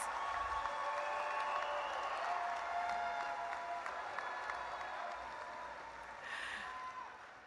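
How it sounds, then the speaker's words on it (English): Sustained applause from a large audience at a university commencement ceremony, steady dense clapping that holds for several seconds and then slowly tapers off. "Please give them a round of applause."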